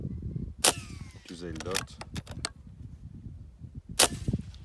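A Niksan Defence ELF-S .22 caliber PCP air rifle fires three sharp, fairly quiet pops, spaced a second or more apart, over low background noise. A voice speaks briefly between the shots.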